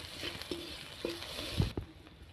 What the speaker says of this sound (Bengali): এখন আমি পেঁয়াজগুলোকে ভেজে নেব।